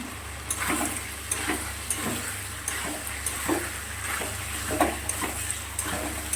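Large prawns hiss and sizzle in oil in a pan, with repeated scraping stirs giving a rhythmic pattern of soft clatters over a constant frying crackle.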